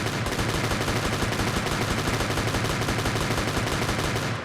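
Two guns fired akimbo, an SMG and a revolver, in an indie video game rattle off a dense, unbroken stream of rapid shots. The fire is loud and steady throughout, with no pauses and no voices.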